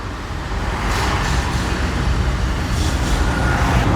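Montra EV Eviator electric mini truck driving in city mode, a steady, loud rolling roar of tyres and road noise with no engine note, continuous throughout.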